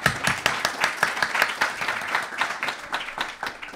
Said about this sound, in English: Big round of applause for all of the other musical accompaniments, all the kartals, all the clapping hands